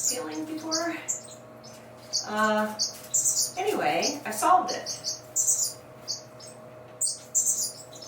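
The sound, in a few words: birds chirping in a home aviary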